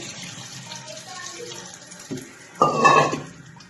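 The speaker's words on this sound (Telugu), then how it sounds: "ఇప్పుడు కొంచెం వాటర్ పోయాలి" Water is poured into a cooking pot, a soft running splash that swells into a louder, fuller gush near the end, with a light metallic clink.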